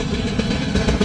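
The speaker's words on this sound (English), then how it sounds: "This is also faster freight train." A fast freight train rolls past close by near Chennai Central Railway Station, a steady, dense low rumble of wheels and wagons filling the short stretch without a break.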